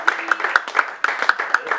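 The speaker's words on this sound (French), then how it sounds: "Applaudissons tout d'abord pour nous" Applause at a New Year's wishes ceremony, a crowd clapping in a brisk, dense patter with sharp individual claps standing out, moderately close and fairly loud.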